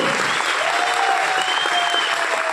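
Steady applause fills a hall in Pune, a dense, evenly sustained roar of many clapping hands from a large seated audience, with a faint tone running underneath.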